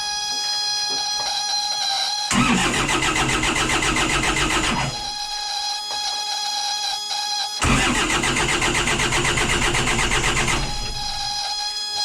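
Old trawler diesel engine cranking and starting after ten years idle, two loud bursts of rough, rapid cranking a few seconds apart, close up, each stopping abruptly over a steady background drone.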